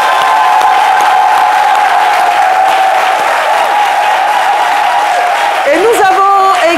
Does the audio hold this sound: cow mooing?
no